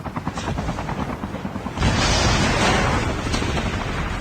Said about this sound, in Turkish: Aa helikopter geliyor